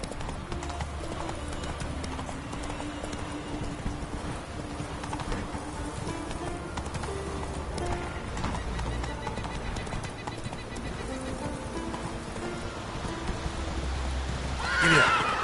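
Roach, a video-game horse, gallops with a steady rhythmic clip-clop of hooves throughout, and a sharp neigh breaks out near the end.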